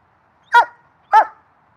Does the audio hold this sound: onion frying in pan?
no